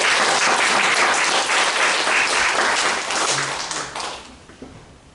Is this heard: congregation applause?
yes